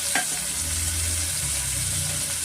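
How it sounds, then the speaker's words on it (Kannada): Soya chunks frying in a pan with onion and turmeric: an even, close hiss of sizzling oil carries through the whole short stretch, opening with a single scrape of stirring and no one talking. "ಸ್ವಲ್ಪ ನಾನು ಫ್ರೈ ಮಾಡ್ಕೊತೀನಿ ಸ್ವಲ್ಪ ಇದಕ್ಕೆ ನಾನು ಉಪ್ಪು ಸೇರಿಸ್ಕೊತೀನಿ"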